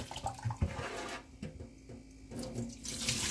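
A tap runs into a cooking pot as rice is washed, giving a loud, close rush of water with splashy swirling and a short quieter gap before the flow strengthens again.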